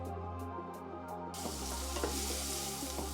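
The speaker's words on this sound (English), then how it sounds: "Fry chopped onion until translucent, then add saffron" Chopped onion and saffron fry in olive oil in a large pan, a dense close sizzle that swells louder partway through, steady and continuous with no voices.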